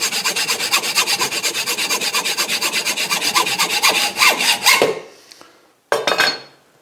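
A handsaw cutting a piece of wood to length, held against a bolt head in a workshop: steady, rapid rhythmic rasping strokes that quicken and grow irregular before the cut ends, then a brief final scrape after a pause.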